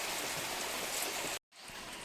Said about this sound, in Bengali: আজকে আবার অনেক সকাল থেকে বৃষ্টি পড়া আরম্ভ হয়েছে।